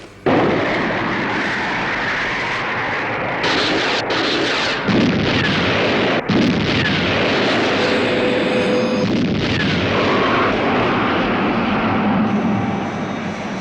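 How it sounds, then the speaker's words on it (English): Missile launch effect from the TV series UFO, a loud sustained roaring blast with sharp bursts and shifting rumble, running on for many seconds without speech. "Missile launch"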